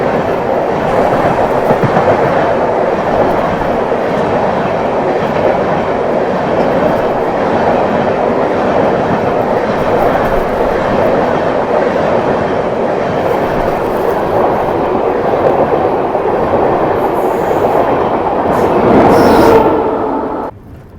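Dharti Aaba AC superfast express train on the run from Hatia to Coimbatore, a loud steady rumble of wheels and carriage noise that holds for the whole span, swelling briefly near the end.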